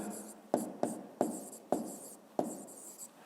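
A pen writes an answer in a notebook, giving close, quiet scratchy strokes with five sharp taps as the pen touches down, spaced irregularly across a few seconds.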